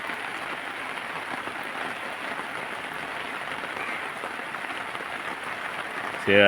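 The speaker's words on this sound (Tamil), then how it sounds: "இடி மின்னல் இல்லாமல் மழை வருது. சைலண்டாக மழை வந்துருக்குது." Steady rain falls without thunder in a rural village, a soft, even hiss of drops that holds unbroken throughout and swells abruptly louder right at the end.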